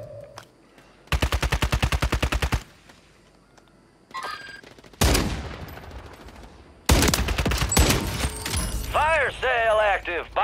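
Gunfire in the video game Call of Duty Warzone, Resurgence duos mode: loud rapid automatic bursts, a heavy blast and further volleys up close, with in-game electronic sounds and a player's voice now and then.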